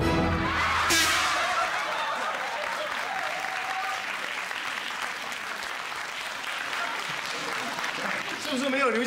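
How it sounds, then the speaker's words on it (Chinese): A studio audience at a Taiwanese variety comedy show bursts into applause, starting with a sharp loud onset and continuing as dense clapping, with scattered chuckles and a voice talking over it. "掌声鼓励鼓励"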